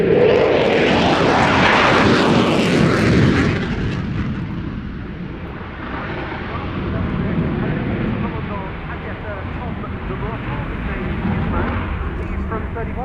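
A Belgian Air Component F-16 fighter jet from 31 Squadron, 10 Wing at Kleine Brogel, roars loudly past at the Royal International Air Tattoo air show, then recedes into a lower rumble while a voice talks.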